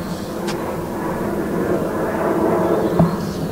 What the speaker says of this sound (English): You can hear the planes in the sky